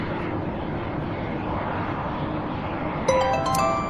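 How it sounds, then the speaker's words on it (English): Boeing 767 jet arriving at Louisville airport, a steady broad engine roar heard from a distance throughout, with a brief tonal beep near the end. "Next up, we've got a 767 arriving out of Baltimore, Maryland."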